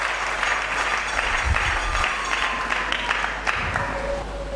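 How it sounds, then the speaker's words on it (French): A church congregation applauds and cheers for the Lord during a Sunday sermon, giving dense, sustained clapping with a steady crowd roar throughout and brief voices rising within it. "Acclamons très fort pour le Seigneur"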